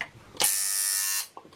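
An electric tattoo machine, its voltage adjusted and run by foot pedal, switches on with a loud, harsh, high-pitched buzz that holds steady for nearly a second, then cuts off abruptly.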